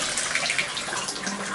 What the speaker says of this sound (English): It has great water pressure and is draining beautifully.